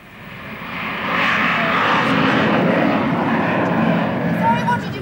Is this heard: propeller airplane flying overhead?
yes